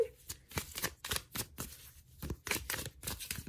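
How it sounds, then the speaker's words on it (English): Tarot cards from a Shadowscapes Tarot deck are shuffled and pulled in quick papery bursts, riffling and slapping in an uneven rhythm, close and fairly quiet, with no talking. "Let's pull out some cards using the Shadowscapes Tarot."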